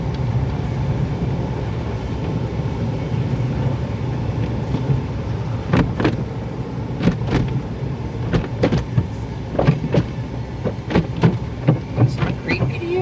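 An automatic car wash heard from inside the car: a steady low mechanical rumble fills the cab, and from about the midpoint, irregular bursts of spraying and slapping from brushes or water jets grow busier and louder.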